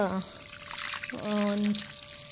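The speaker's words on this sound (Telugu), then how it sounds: "నీళ్ళు ఇట్లా వదిలేసుకుంటే బాగా" Water splashes and trickles steadily, close by, as it is poured on sown gongura seeds in a small garden, with a tonal hum running beneath and brief voices.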